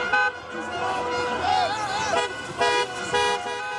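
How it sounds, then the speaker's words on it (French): Car horns blare again and again in the streets of Elancourt during an all-night football victory celebration, a chorus of overlapping toots and long honks mixed with passing traffic, while a voice talks over the din. "dans les rues d'Elancourt avec un concert de klaxon"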